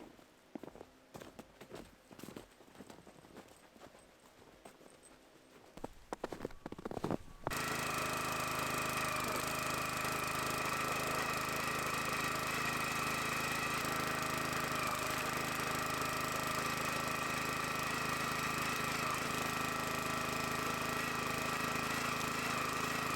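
Log splitter engine starts up after a stretch of footsteps and shuffling, then runs steadily at a loud, continuous roar for the rest of the clip with no talking.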